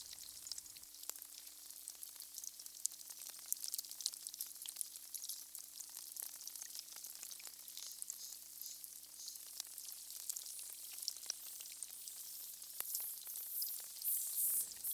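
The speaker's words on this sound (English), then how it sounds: "You're still hearing the barnacle sounds, and already they're changing." Barnacles crackle and tick as a dense, faint, high-pitched fizz of tiny pops, steady throughout, with a low hum underneath.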